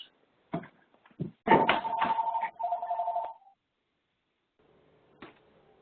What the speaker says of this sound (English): do you have a phone ringing in the background?